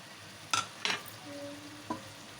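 Spice masala is stirred into a gourd curry in a pan: three distinct scraping clinks of a spoon over a low, faint sizzle, with a quiet steady tone in between.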